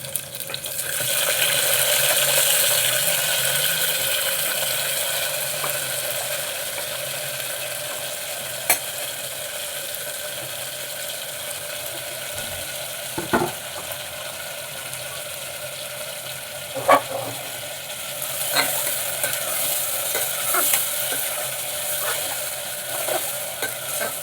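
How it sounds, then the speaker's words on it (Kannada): Vegetables added to a pan of veg pulao and stirred, giving a steady close hiss of sizzling with occasional light scraping clinks of a spoon against the pan. "ಇವಾಗ ನಾನು ತರಕಾರಿ ಹಾಕ್ಕೊತಾ ಇದ್ದೀನಿ"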